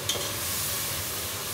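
Chilli hits a hot pan with a steady, loud sizzle and hiss, stirred continuously through the short moment, no voices.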